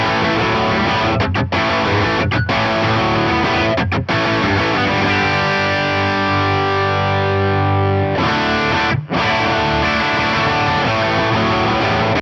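Electric guitar through a Boss IR-2 pedal on its crunch amp setting, loud distorted chords and sustained notes ringing out with brief gaps between strums, played alone without talk.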